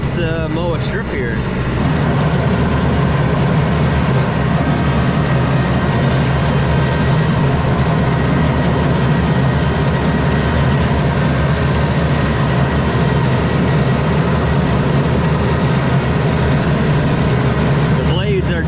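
A lawn mower engine runs steadily throughout while cutting a strip of grass, a constant close drone with a slight change as it starts; blades noted as dull.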